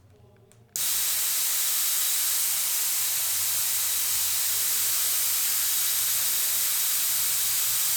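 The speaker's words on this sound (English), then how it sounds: "we're going to open the gas now, and it's going to cool this nozzle to around -4 degrees" A cryotherapy nozzle opens with a sudden burst of cold gas, then a loud, steady, unbroken hiss of spraying that continues alone to the end, used to chill a horse's back in a stable.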